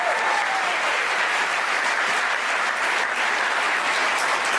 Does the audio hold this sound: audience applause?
yes